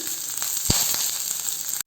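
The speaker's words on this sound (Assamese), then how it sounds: "নহৰুখিনি মই এতিয়া ভাজি আছোঁ" Garlic and green chillies fry in hot oil in a pan for a chutney, giving a steady close sizzle throughout with a few brief crackles, then a sudden cut near the end.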